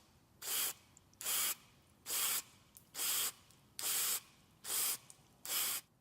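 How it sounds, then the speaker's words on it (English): Seven short bursts of aerosol MAF sensor cleaner sprayed at the hot wire of a mass air flow sensor, each hissing spray lasting about a quarter second with brief pauses between, close and clear with no talking. "we're going to spray about 10 to 15 times at that hot wire"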